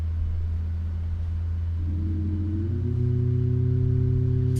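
A Boeing 737 MAX 8 jet engine spooling up in the iFly flight simulator, a steady low rumble with a whine that climbs in pitch and settles into a sustained drone.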